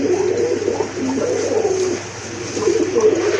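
Domestic pigeons, including pricey breeds kept for sale, coo steadily in a low murmuring chorus close by, with some faint background noise and no clear speech.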